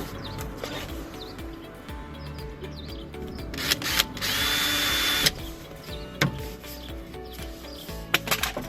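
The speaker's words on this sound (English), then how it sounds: "Made a mark, drill a hole." A blunt power drill bores a hole into a horsebox, its motor whining in short bursts with one sustained high-pitched run in the middle, plus scattered clicks and knocks of handling nearby.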